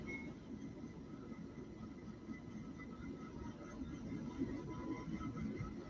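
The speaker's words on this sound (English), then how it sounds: "they're going to shove this train over to the resin production area." A freight train is shoved slowly through a rail switching yard toward a resin production area, giving a steady low rumble of rolling railcars with faint metallic tones throughout and no talking.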